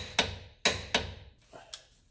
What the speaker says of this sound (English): Get your favorite hammer and stake this thing.